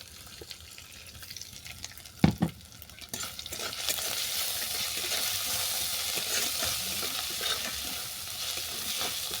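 Grated ginger frying with cumin seeds in a hot pan, a couple of sharp clattering stirs early on, then a steady close sizzle that swells and holds loud to the end, with no talk.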